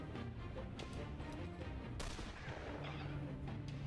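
A grenade blast in the video game The Lamplighters League: a dense, noisy burst of booming crashes and crackle fills the clip, with a sharp loud impact near the middle among continuous rumbling battle noise.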